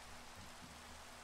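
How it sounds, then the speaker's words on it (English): Steady rain falls in Minecraft, an even, faint hiss of drops with no breaks and no talking. "Look at that. It's raining."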